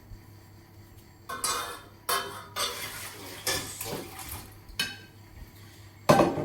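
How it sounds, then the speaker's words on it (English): Cooked potatoes tipped into a drainer in a kitchen, giving several bursts of rattling, clanking metal and rushing water with short pauses between, ending in one sharp loud clatter. "So we'll drain them in our drainer."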